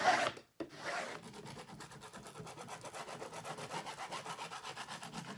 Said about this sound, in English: And then we're just going to start rubbing on here, and I'm going to flip this over and rub from the inside.